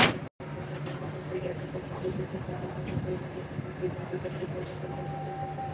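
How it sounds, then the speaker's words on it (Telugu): A train rumbles along steadily near the India–Pakistan border, a continuous close rolling drone with faint squeals and no talk. "ఇక చూసారు కదా, ఇదే ట్రైన్ అండి"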